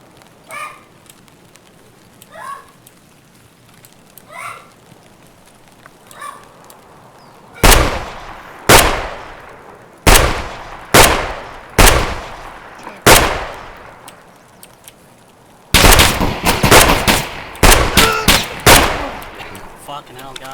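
Gunfire in a first-person shooter video game: faint distant shots early on, then loud, close single shots and rapid bursts with sharp cracks and short decaying tails.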